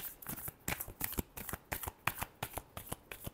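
Tarot cards being shuffled by hand, a rapid series of crisp riffling slaps in a steady rhythm, close and quiet with no talk over it.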